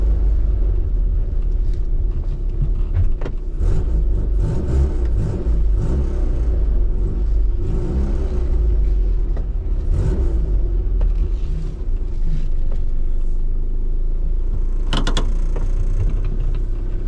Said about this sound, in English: the car is running really, really well